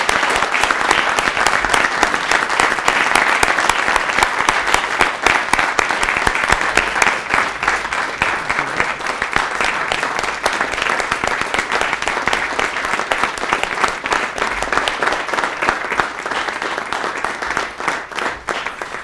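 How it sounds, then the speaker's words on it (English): A room at a city council meeting gives sustained applause, dense even clapping from many hands lasting nearly twenty seconds, with faint voices beneath. "Would you all join me in giving Dick a round of applause?"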